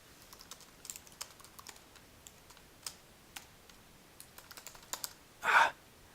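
Someone types on a computer keyboard at a quiet, steady pace: sparse clicks and short bursts of keystrokes, fairly faint and close, with a louder breathy sound near the end.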